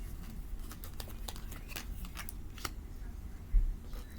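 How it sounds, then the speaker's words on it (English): Tarot-style playing cards riffled and shuffled by hand, a close, soft run of quick papery flutters and taps, fairly quiet, ending in one firmer thump. "These cards tried to pop out here."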